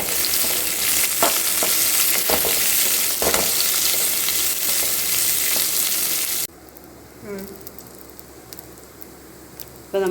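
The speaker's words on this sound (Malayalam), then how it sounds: "ഇതിപ്പോൾ ഈ ഇഞ്ചി, വെളുത്തുള്ളി, കറിവേപ്പില ഇതൊക്കെ ഒന്ന് മൂത്ത് വരട്ടെ കേട്ടോ." Onion, ginger, garlic and curry leaves fry in a pan for a Kerala thoducurry, giving a loud, steady sizzle with stirring scrapes that cuts off abruptly near the end to a much quieter background.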